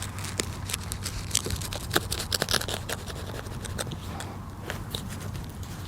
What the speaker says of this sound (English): I'm going to take a slice from the top to the bottom of my hole about 1 inch thick.